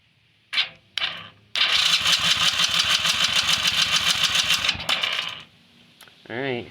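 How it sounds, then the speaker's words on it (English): Small 50cc quad engine being cranked over by its starter, a rapid rhythmic chugging that runs for about three seconds after a couple of short bursts, close and loud, ending with a brief whine. "Alright, so it cranks over."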